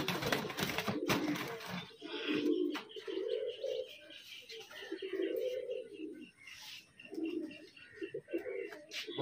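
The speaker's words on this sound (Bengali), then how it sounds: "এই হচ্ছে মাদি পায়রা।" A female Andhra pigeon coos in repeated low, rolling phrases close by, with light chirps and a faint voice in the background.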